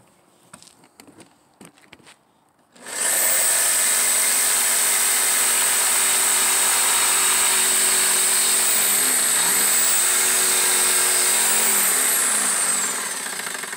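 A handheld jigsaw starts after a few quiet taps and runs steadily, a loud, close, sustained buzzing whine from cutting through board during a tight turn, with slight pitch dips midway and easing toward the end.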